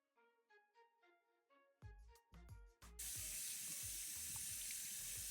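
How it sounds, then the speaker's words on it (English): Habaneros and carrots rinsed under a cold kitchen tap: a few light clinks and knocks at first, then a steady, loud rush of running water splashing into the sink, alone with no voices. "Make sure you give the habaneros and the carrots a thorough rinse. Just under cold water is more than adequate."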